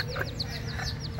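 A protective speckled hen with her newly hatched chicks gives soft, low clucks under a steady stream of high, repeated peeping from the chicks, heard up close.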